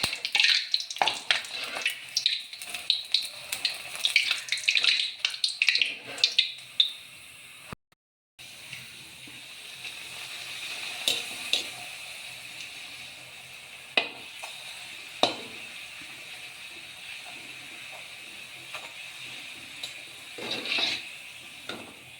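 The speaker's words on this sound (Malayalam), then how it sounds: "എണ്ണ ചൂടായി നമുക്ക് പൂരി ഇട്ട് കൊടുക്കാവേ" Puri frying in hot oil, a steady close sizzling hiss with occasional clinks and stirring scrapes, briefly cut off once before the bubbling resumes and carries on evenly.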